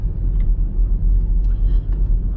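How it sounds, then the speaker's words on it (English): A 2023 BMW iX3 electric SUV cruising on lane keep assist, with a steady low road rumble and tyre drone close inside the cabin and a few faint higher ticks over it. "Now the car is driving on its own."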